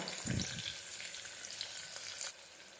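Green chili, onion and garlic frying in a pan for moong dal khichdi, giving a continuous close sizzle with a brief clatter of stirring near the start and no voices.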